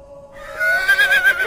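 A horse whinnies loudly and close in a dark, spooky setting for a choral art project retelling the legend of La Segua, one rising, shrill neigh lasting over a second, alone and without talk.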